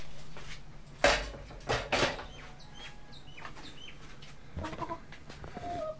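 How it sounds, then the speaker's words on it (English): Chicken clucking in a workshop where a Sony high-end projector is being scrapped, with several short sharp bursts near the start and softer chirping calls later, moderately close amid low background hum. "And the chicken approves."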